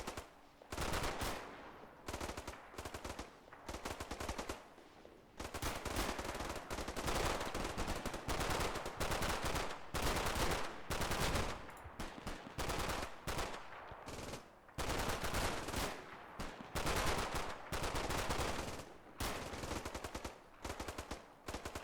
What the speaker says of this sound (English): So give them a burst of fire, give them a burst of fire, and then peg it.